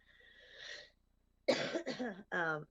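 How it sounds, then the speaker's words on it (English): A close, sharp cough bursts out after a soft breathy sound, followed by a couple of rougher throat-clearing coughs. "Sorry about the cough."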